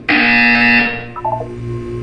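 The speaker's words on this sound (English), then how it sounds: "You will hear a buzzer." A loud buzzer from the game Portal 2 sounds as one sustained harsh tone for under a second, then cuts off, leaving a few faint chirping electronic tones and a low hum.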